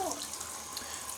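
Hot water pours from a tap in a steady, soft splashing stream, a faint continuous flow with no voices.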